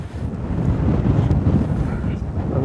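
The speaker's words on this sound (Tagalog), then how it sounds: "Medyo malakas yung hangin" Strong wind buffeting a microphone on a rooftop viewpoint near Mariveles, a loud continuous low rumble with gusty swells and no clear talk.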